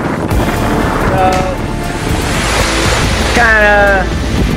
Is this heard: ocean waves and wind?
yes